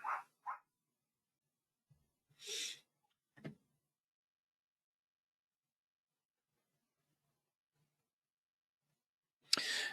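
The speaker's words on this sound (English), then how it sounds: "The dogs, of course, taking due notice of that." Dogs barking in short, separate bursts: a pair of quick barks, then two more after a pause, and another after a long silence, fairly close and clear with no talking.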